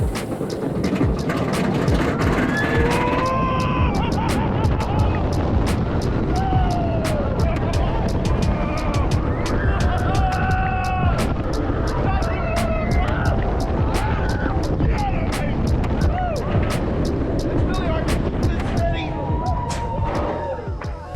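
Riding in the back row of the Iron Gwazi roller coaster, loud continuous wind roar and rattling track noise fill the ride, with riders screaming and shouting throughout.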